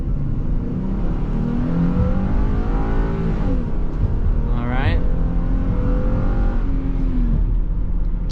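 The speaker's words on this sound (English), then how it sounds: "Let's try to go a little quicker here and see." An all-wheel-drive 2021 Ford Transit van with a naturally aspirated 3.5-liter V6 accelerates from inside the cabin, its engine note rising steadily and loud over road roar, with a brief spoken remark.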